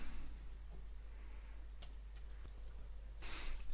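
Steady typing on a computer keyboard while entering slide text in PowerPoint 2013, with soft continuous key taps and a few sharper clacks up close against a constant low hum.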